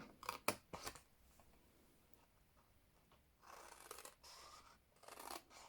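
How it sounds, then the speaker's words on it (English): Scissors snip a cardboard Christmas gift box along a score line, several quick crisp cuts early on followed by longer scraping slices toward the end, close and fairly quiet with no talk. "I'm going to cut all the way up like that."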